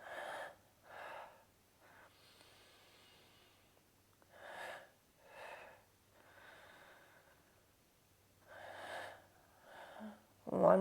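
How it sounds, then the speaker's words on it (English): Paired breathy exhalations from a person doing yoga twists, each exhale split into two quick pushes, repeating in a slow, steady rhythm with quiet pauses between, close and soft. "Double exhalation. Moving with your breath."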